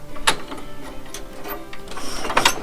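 A single hand-crank of a 1912 Ford Model T Roadster engine, with a few mechanical clicks and rattles close by, brief and uneven, no engine firing.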